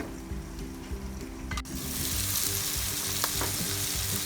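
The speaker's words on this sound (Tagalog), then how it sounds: "takpan natin at lutuin muna natin ang ating tomato" Tomatoes sprinkled with pepper cooking in a covered pan for a chilli mixed seafood dish, a steady close sizzle and frying crackle that swells louder midway, with no talking.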